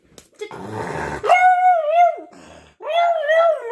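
A dog lets out a few sharp barks, then breaks into long, wavering howls twice, loud and close.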